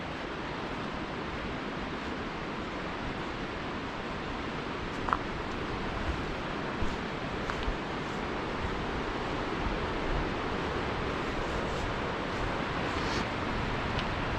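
Steady wind buffets the camera microphone near the former Elwha Dam site, a continuous broadband roar with a few faint bumps and no speech.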